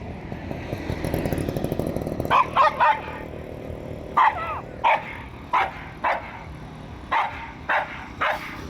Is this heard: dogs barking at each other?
yes